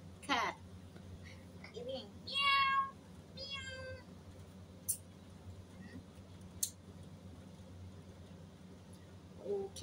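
A cat meows several times indoors during a casual dinner, short clear calls separated by pauses, with occasional child-like voices and small clicks in the background.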